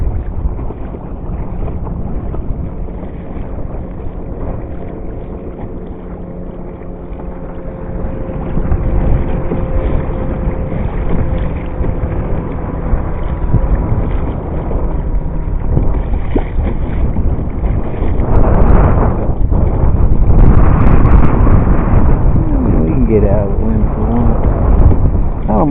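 A boat pushes through choppy water on a breezy day at Silverwood Dam, with a steady loud rush of hull noise and wind buffeting the microphone throughout, growing rougher toward the end.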